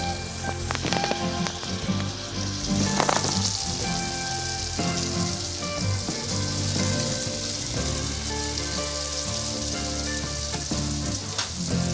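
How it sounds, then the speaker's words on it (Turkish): Açma dough pastries sizzle and crackle steadily in hot oil in a pan over medium heat, a close, continuous frying hiss with occasional pops. "Gördüğünüz gibi puf puf kızarıyorlar."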